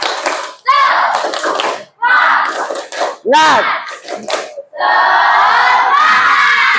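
A classroom of students performs a rhythmic spirit clap and shouted cheer in unison, loud and close, with sharp bursts of clapping broken by brief pauses and a long final cheer.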